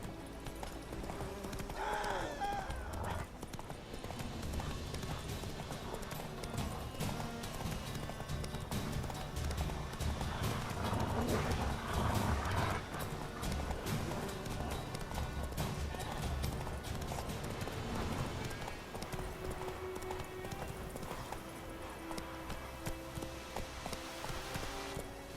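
Roach the horse gallops through The Witcher 3 with steady clip-clop hooves, continuous and close, running under game music with occasional snorts and a brief whinny.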